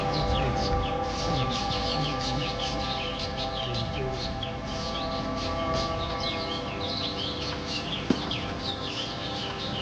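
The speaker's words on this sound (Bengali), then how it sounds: "অনেক পাখির সুন্দর আওয়াজ শুনতে শুনতে আমরা ফাইনালি আমাদের হোমস্টে 5 পোখরি হোমস্টেতে পৌঁছালাম" Many birds chirp and twitter in a dense, steady chorus outdoors near a hill homestay in the Darjeeling hills, with a low constant background hum and one brief sharp knock near the end.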